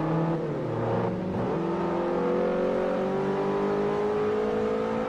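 Race cars in Forza Motorsport 4 overtaking a Volkswagen, engines droning steadily close by with rising revs and a whirring pitch climb, continuous and loud with no talk.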